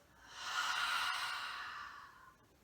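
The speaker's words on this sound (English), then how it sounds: "inhaling through the nose and exhaling through the mouth" A single slow breath during a yoga cool-down, drawn in through the nose and let out through the mouth, a soft airy rush that swells and fades, quiet and close.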